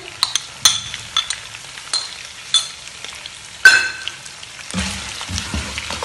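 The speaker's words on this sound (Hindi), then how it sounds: "इसके बाद प्याज डालेंगे हम" Thinly sliced onions drop into hot oil for mutton karahi, sharp crackles and spatters at intervals, then a louder burst as they hit the pan and a steadier sizzle with stirring, no voices.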